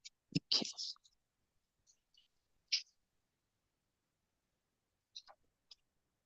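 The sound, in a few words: turning the pages of a book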